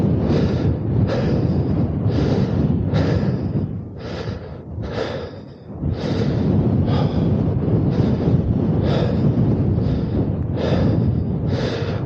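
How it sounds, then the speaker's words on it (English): Strong wind buffets the microphone in loud, rhythmic gusts on a hillside walk partway to the top, a steady roaring rush that dips briefly midway before surging again, with no talk. "Quite a strong breeze."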